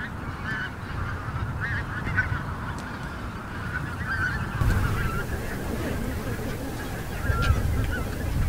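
Pink-footed geese, the short-billed goose, honking through their wintering season: a flock calling repeatedly with overlapping, high, nasal honks, fairly near and steady over a low rumbling background.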